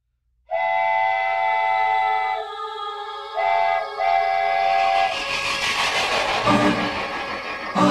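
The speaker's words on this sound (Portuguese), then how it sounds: "Olha o trem, vem surgindo de trás das montanhas azuis, olha o trem." A steam train's whistle sounds in several sustained blasts, then the rushing, chuffing roar of the locomotive swells as it approaches, loud and close.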